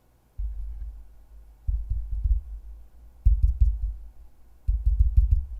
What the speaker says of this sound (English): I thought I heard a heartbeat.